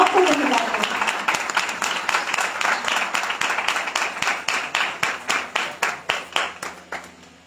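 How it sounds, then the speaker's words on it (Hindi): Church congregation applauding at a fellowship conference, a loud burst of massed clapping that thins into slower, more distinct rhythmic claps fading toward the end. "क्यों ना जोरदार ताली बजाकर हम लोग प्रभु के नाम को धन्यवाद दें।"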